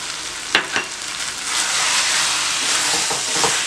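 Lemon juice hits potato masala in a hot pan, setting off a loud, steady broadband sizzle after a couple of short stirring clatters, the frying hiss swelling and holding close up with no voices.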